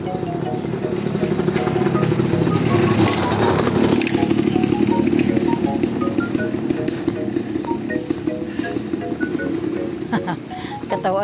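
A motorcycle engine revs and rumbles nearby, loud and steady, with a rough mechanical sputter running throughout.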